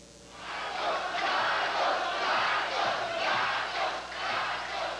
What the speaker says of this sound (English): Thousands of loyalists cheering the failing dictator